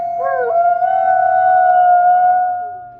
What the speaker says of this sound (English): Perhaps the most well-known characteristic of the gray wolf is its penetrating,